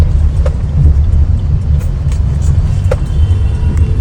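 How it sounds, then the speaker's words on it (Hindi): A car moving through heavy Mumbai traffic, a steady low engine and road rumble with a few faint distant horn-like blips over the top, continuous and fairly loud throughout. "और हम निकल चले हैं मुंबई के बहुत सारे ट्रैफिक में."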